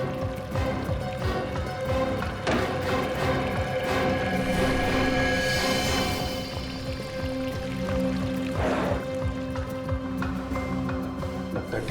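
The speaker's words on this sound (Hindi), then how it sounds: "पानी की आवाज।" Water pours and trickles in a hotel room, a soft running flow under room noise and scattered clatter.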